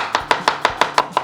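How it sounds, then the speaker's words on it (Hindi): A knife slices through crab on a cutting board in seven crisp, evenly spaced strokes, close and clear with no voices. "स्लाइस करना है इसको, स्लाइस करना है।"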